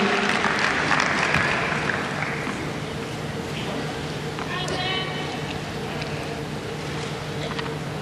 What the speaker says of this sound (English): So good round of applause there for Sam Stosur